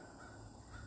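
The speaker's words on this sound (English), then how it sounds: "The crow is talking." A crow caws outdoors, a faint single call set against steady background noise over a brief moment.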